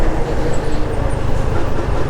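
A large, heavy truck passes close on a road during a morning ride to Nachol, giving a loud, steady low rumble of engine and tyres throughout.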